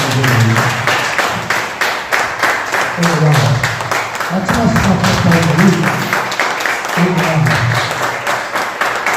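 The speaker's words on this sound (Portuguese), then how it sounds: "Aplauda o Senhor e agradeça a oportunidade." A church congregation claps in a loud, rhythmic wave of applause that fills the room, while voices call out and a low musical drone sounds underneath.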